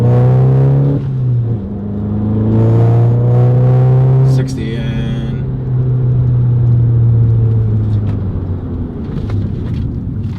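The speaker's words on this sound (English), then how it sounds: "We're gonna build it up to 60, and then we're gonna hit the brakes" A Volkswagen MK7 GTI engine revs up with a rising, droning note while accelerating to 60, then drops off sharply under hard braking with upgraded brakes. Someone talks over it.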